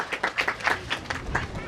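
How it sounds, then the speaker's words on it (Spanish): Rhythmic clapping at a family birthday celebration for a mother in Rumichaca, Chuschi, steady beats of a few hands mixed with voices talking and calling out over them. "Esas palmas, a ver."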